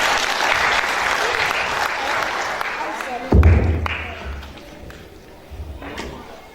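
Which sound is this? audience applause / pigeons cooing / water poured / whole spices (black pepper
audience applause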